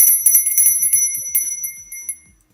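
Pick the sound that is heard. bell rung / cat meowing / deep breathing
bell rung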